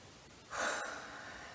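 A single deep inhaled breath, close and soft, rising suddenly then trailing off as an airy hiss.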